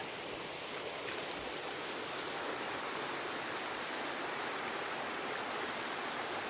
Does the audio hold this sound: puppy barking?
no